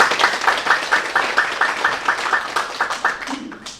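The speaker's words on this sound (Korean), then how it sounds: "큰 박수로 환영할까요?" Warm applause from a church congregation welcoming a deaconess to the pulpit, a rhythmic run of clapping that thins out toward the end.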